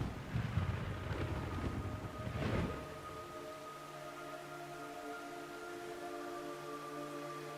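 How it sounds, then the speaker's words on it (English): Rain falls during a Metal Gear Solid 3 game scene, a faint hissing wash with a gusty rumble early on that settles into steady patter beneath a soft sustained musical drone. "It's raining blood."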